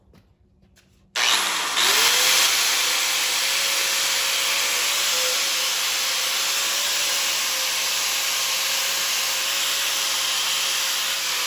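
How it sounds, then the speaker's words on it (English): Wire wheel on a power tool spinning up and grinding steadily against engine parts during a head gasket job, a continuous loud whirring abrasive hiss with a sustained tone that holds for about ten seconds after a quiet start. "let's grab a wire wheel."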